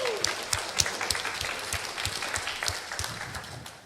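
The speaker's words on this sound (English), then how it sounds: "if you could give our folks a round of applause" Applause from a church congregation during a Sunday morning service, with individual claps distinct within a moderate, fairly close round of clapping.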